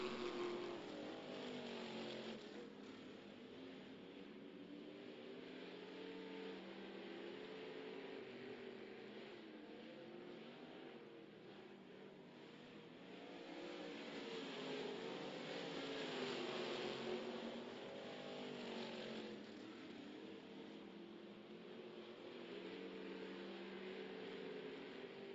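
Sprint cars racing around the Adams County, Illinois speedway, a continuous distant engine drone that swells and fades as the pack circles the track, with no voices heard.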